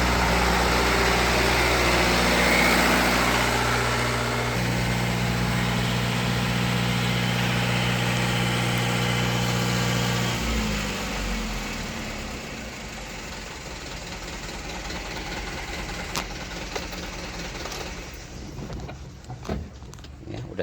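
A car engine idles with a steady low droning hum for about ten seconds, then is switched off and winds down, leaving a quieter space with a few faint clicks and rattles.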